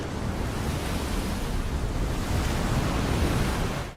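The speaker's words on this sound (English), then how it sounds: "Very Loud Waves is our teaser." Very loud ocean waves crash and roar in a continuous, dense wash of surf from a Pokémon trailer teaser, holding steady throughout before cutting off abruptly at the end.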